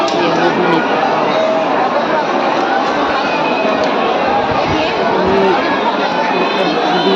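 A dense crowd of pilgrims at Khatu Shyam temple, a loud, unbroken roar of many voices with shouts rising through the babble, close and steady throughout.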